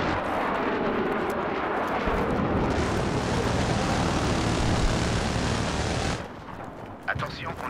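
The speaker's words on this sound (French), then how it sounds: "Je suis dans l'hélico de combat." An attack helicopter in the video game Battlefield 3 roars loudly and steadily with dense engine and rotor noise, then cuts to quieter background sound near the end.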